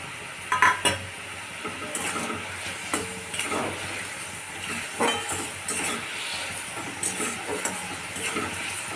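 Khalse fish going into a pan of sizzling sour sauce: a steady frying hiss with spoon scrapes and clinks against the pan, close by.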